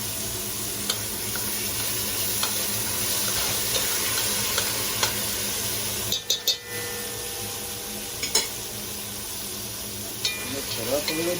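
A pot of Portuguese chicken giblet stew with feet, hearts, liver and gizzards and pepper paste being stirred, a steady simmering bubble with scattered spoon scrapes and a few clinks against the pot, close by.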